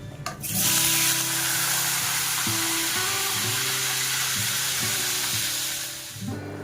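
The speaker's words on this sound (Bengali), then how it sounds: "আলুটা তেলে দেওয়ার পর নুন আর হলুদ দিয়ে ভালো করে এটাকে ভেজে নেব" Potatoes drop into hot mixed white and mustard oil, setting off a sudden loud, broad sizzling hiss that holds steady and close for several seconds before easing slightly.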